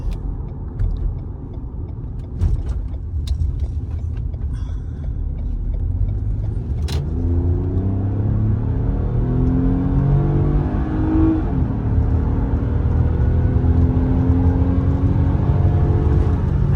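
A 2018 Lexus RX350 engine pulls hard at full throttle while merging onto a highway, heard from inside the cabin as a steady, rising drone with climbing harmonics through a gear change, loud and continuous with no talk.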